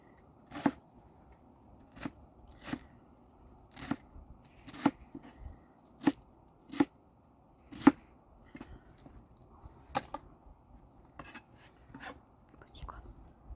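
A knife slices through iceberg lettuce outdoors in crisp, irregularly spaced chops, each a sharp crunchy snap, heard close and fairly quiet with a soft voice murmuring in the background.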